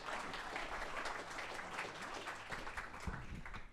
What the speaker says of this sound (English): Round of applause, please, for Judy Sheldon.